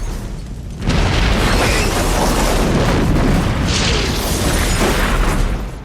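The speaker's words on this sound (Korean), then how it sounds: "결국 버스는 비행기와 충돌 직전 폭발하게 되죠." Bus exploding on an airport runway after nearly hitting a plane in the movie Speed, a sudden loud blast that swells into a sustained roaring fireball rumble lasting several seconds.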